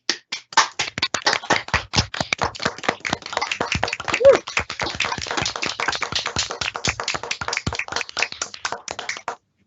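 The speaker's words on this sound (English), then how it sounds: "So can we have a round of applause, please, for Cherry?" Conference audience applauds an honoree at a closing session, a long run of dense hand claps at close range holding steady for nearly ten seconds before stopping.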